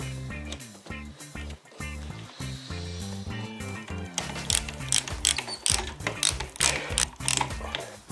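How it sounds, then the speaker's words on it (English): Screws driven into extension studs in an electrical socket back box make a series of short, whirring, ratcheting mechanical bursts, close and fairly quiet, becoming busier and choppier toward the end. "And then you simply attach your normal length screws into the studs"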